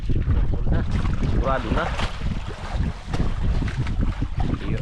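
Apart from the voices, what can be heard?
strong wind at sea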